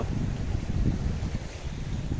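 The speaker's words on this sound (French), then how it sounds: "Le vent est monté un peu." Steady gusty wind buffeting the microphone, a dense low rumble with rushing noise, loud and continuous with no voices.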